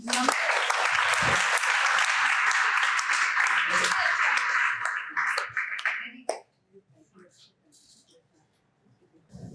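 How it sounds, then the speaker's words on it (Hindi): A student audience at a NEET toppers' interaction breaks into loud, dense clapping that fills the room for several seconds, then thins into a few scattered claps and fades out. "इस बात पे ताली होनी चाहिए।"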